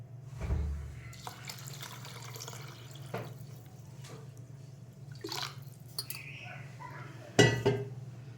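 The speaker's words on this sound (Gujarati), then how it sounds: "હવે પાણી આમાં વધારે રેડવાનું।" Water is poured into a metal pressure cooker holding dal and rice for khichdi, with splashing and trickling broken by a few sharp clinks of steel utensils nearby.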